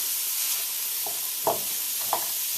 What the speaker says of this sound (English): Stir in the Quorn